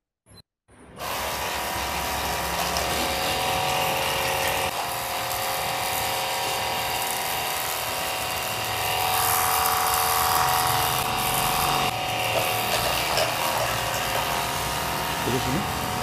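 A Kamolee cordless jet washer sprays continuously for about fifteen seconds, a steady close hiss of pressurized water with a faint motor whine underneath, starting abruptly after a short click.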